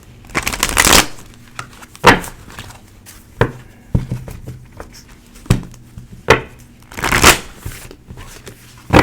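Tarot cards are shuffled and drawn in repeated bursts of crisp riffling and slapping, with short pauses between shuffles, close and fairly loud with no talking.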